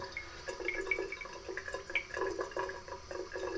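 Water trickles and drips into a mug as a shaving brush soaks, a quiet, close sequence of small irregular splashes and drops with no talking.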